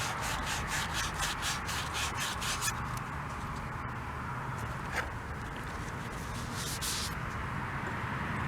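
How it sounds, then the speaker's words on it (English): Steady close rubbing of 1400 grit sandpaper, with rhythmic back-and-forth strokes early that settle into a continuous even hiss. "A little bit of 1400 sandpaper."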